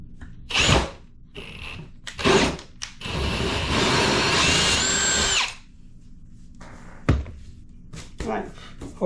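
A power drill fitted with a hole saw cuts through material during a bathroom remodel, a steady grinding whir of about three seconds preceded and followed by short drill bursts and clunks, close and loud, with talk around it.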